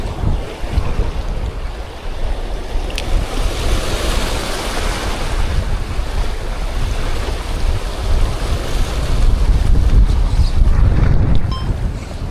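Strong sea waves surging and slapping near a small boat on open water, a continuous loud roar of surf and water wash with gusty wind buffeting the microphone, no voices.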